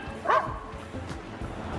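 A pet dog gives a short yip and bark, then soft whimpering, fairly close, over a quiet indoor background.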